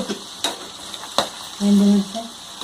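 Cumin and mustard seeds sizzle in hot oil, a low crackling hiss punctuated by a few sharp pops and clinks. Near the end, a brief steady tonal hum sounds over the frying.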